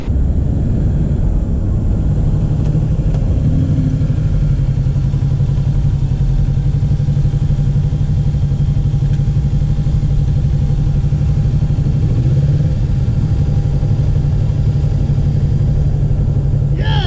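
A Kawasaki Ninja 650 motorcycle is ridden, with a loud, constant engine drone and heavy wind rush holding steady throughout from the rider's position.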